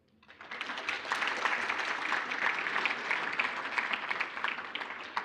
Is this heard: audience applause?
yes